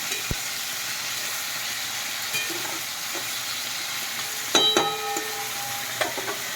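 Food is stirred in a frying pan at a home stove, a quiet steady sizzle running throughout with occasional scrapes and clinks of a utensil against the pan.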